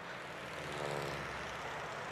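An airplane engine drones steadily near a waiting plane, a loud, continuous propeller-like hum with no break.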